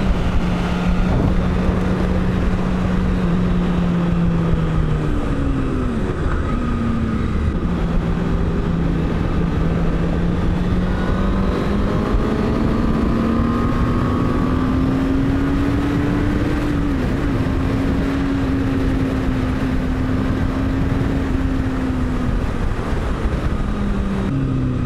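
A motorcycle cruises on the road during a group ride in the Netherlands, engine drone rising and falling through gear changes under heavy steady wind rush from the rider's perspective, continuous and loud with no speech.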